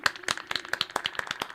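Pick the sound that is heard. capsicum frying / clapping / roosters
clapping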